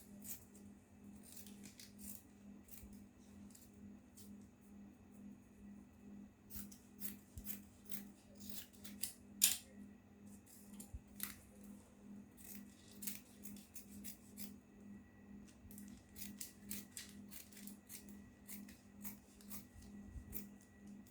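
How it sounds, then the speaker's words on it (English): Scissors cutting fabric for an ankara keyhole yoke blouse, quiet repeated snips and rasping slides of the blades, close and faint with a low steady hum underneath. "So I'll go ahead and cut this out."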